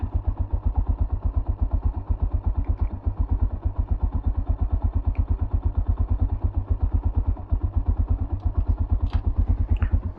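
A Tekken 250 motorcycle engine idles close by in a steady, even putter that holds for the whole stretch, with a few faint clicks over it.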